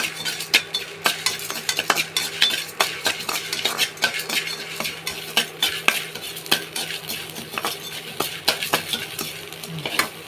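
Salt is dry-roasted in a pan, and a utensil stirs and scrapes it in quick, busy strokes. The gritty metallic scraping repeats constantly and loudly, with occasional clinks against the pan.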